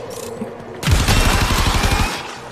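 Rapid burst of Warframe gunfire, a dense stream of loud close shots lasting over a second, following a quieter stretch of game ambience.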